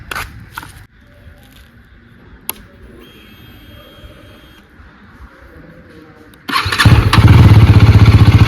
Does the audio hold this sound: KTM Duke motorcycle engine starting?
yes